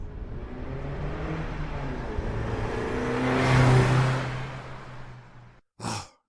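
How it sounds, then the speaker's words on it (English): A car engine revs and accelerates away in an audio drama, a loud rising roar that swells to a peak midway and then fades into the distance, ending abruptly before a short breathy burst. "Randy, hit the gas!"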